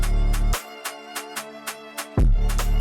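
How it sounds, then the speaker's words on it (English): A loud, full beat plays with heavy bass, a steady rhythm of sharp percussive hits and a layered melody. The bass drops out briefly and then returns. "So the full beat sounds like this."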